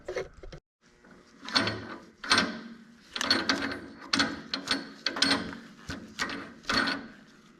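Repeated metallic clattering and rattling bursts from a John Deere 3 Series tractor snow blower drive shaft, roughly one per half second, close by and fairly loud, with no talking.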